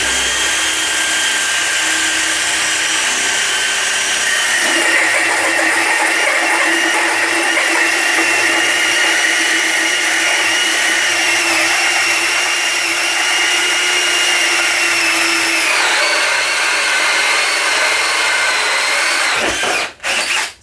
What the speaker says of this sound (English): So we're starting off with the Dewalt using a hole saw